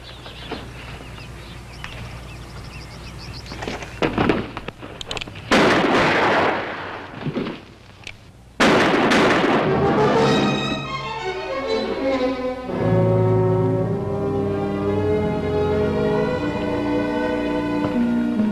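Pistol gunshots in a western film ring out as several sharp, loud cracks spaced over a few seconds, followed by a swelling orchestral score that carries through the rest of the moment with no voices.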